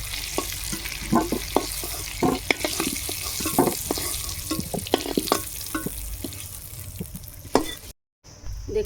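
Potatoes sizzle steadily in hot oil as they finish frying in a Bengali kitchen, with a continuous crackle and scattered sharper pops before a brief cut near the end.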